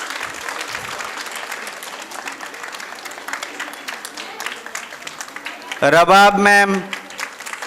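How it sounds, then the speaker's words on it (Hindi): School assembly audience applauding teachers at an Independence Day celebration, sustained crowd clapping over the whole stretch, with a speaker calling out names over a loudspeaker near the end. "जोरदार तालियां हो जाए टीचर्स के लिए, तालियां रुकनी नहीं चाहिए प्लीज।"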